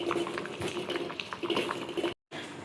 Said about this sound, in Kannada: ಮೊಟ್ಟೆ ನೋಡಿ, ಬೇಯ್ತಾ ಉಂಟು.